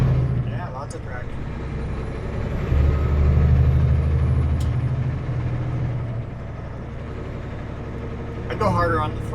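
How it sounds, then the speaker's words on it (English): A truck engine accelerates on an icy road near Burns Lake and Houston, British Columbia, a loud low rumble that swells midway, with a brief hiss and some talking near the end. "I go harder on the throttle when it's icy to test the traction."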